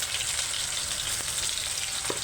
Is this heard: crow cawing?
no